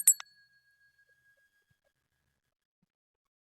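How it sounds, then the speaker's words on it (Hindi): A small hand bell gives a couple of quick metallic strikes close by, then one clear ringing tone slowly fades into silence. "एक तो इसको निरंतर ऐसे बजाया जा सकता है"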